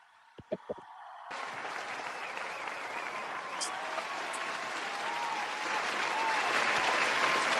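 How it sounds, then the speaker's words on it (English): Canned applause sound effect triggered on a boxing review livestream, a few brief knocks first, then a dense crowd clapping that starts abruptly and swells slightly louder toward the end. "Let me get you a round of applause"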